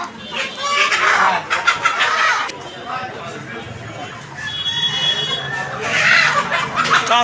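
Chickens at a rural poultry market in Natore, Bangladesh, with local and Sonali breeds, clucking and squawking in bursts over constant crowd chatter, people talking nearby.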